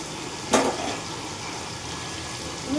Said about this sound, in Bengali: আমি একটু গরম জল দিয়ে রাখবো, যাতে পনিরটা নরম থাকে।